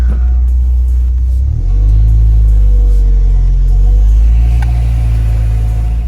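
Mazda Miata convertible with rusty brakes pulling away on a damp, rainy day, a steady close engine rumble swelling as it accelerates off, low and continuous throughout.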